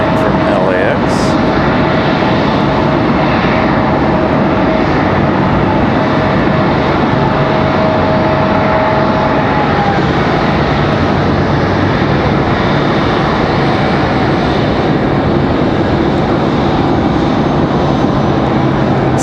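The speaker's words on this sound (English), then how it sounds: "We've got an American 737." Jet airliner engines roar steadily at Raleigh Durham airport, a loud, continuous broadband rumble and whine that holds for the full length, with faint voices in the background.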